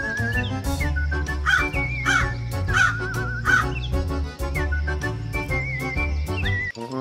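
Cartoon crow cawing in a Hindi children's moral story about a lazy crow and a sparrow, repeated harsh calls over a steady musical backing.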